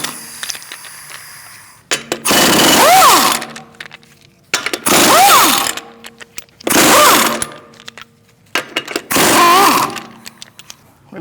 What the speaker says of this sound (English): We're going to use a 19mm socket to remove the lug nuts,